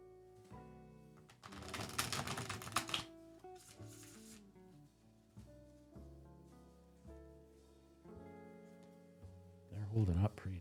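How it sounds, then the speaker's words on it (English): Tarot cards being shuffled by hand in bursts of riffling and flicking, close and fairly quiet, separated by short pauses and soft handling noises. "I'm going to wear these cards out with shuffling."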